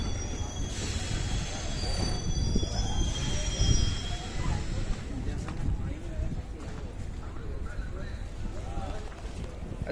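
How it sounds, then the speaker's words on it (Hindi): A passenger train on the Ahmedabad to Udaipur route pulls into a station, its wheels squealing in high metallic whines over a continuous low rumble of rolling carriages, with station crowd noise and voices mixed in throughout. "अच्छा, ट्रेन तो आ गई है"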